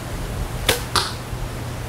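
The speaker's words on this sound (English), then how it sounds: "The popping sound is the arrow hitting the target" Arrows striking an archery target, two sharp popping impacts about a quarter second apart, close and loud against a quiet outdoor background.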